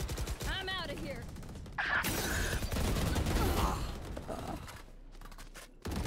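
Bursts of rapid gunfire from a gun in the shooter game Valorant, dense and loud through the middle, trailing off toward the end, with a voice speaking over part of the action.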